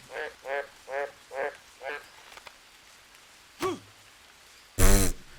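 A frog in the jungle survival game Green Hell croaks five times in a steady, evenly spaced rhythm, close and clear. Two louder, different calls follow after a pause.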